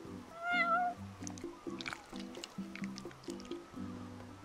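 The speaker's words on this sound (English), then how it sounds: "like literally feeding a cat" A cat meows in the Final Fantasy 15 video game while being fed, with squishy eating sounds and steady background music underneath.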